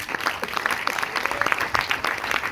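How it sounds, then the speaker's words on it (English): Audience applause at a film screening, a crowd clapping irregularly with individual claps standing out in a fairly close, uneven patter, heard on its own without talk. "Keep the round of applause going."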